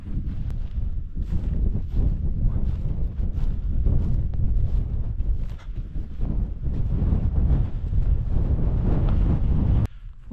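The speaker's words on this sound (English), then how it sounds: "It's very, very cold when it is in the wind." Cold northerly wind on an exposed remote hilltop near Glasgow buffets the microphone in heavy, gusting low rumbles that roll on without pause and cut off abruptly at the end.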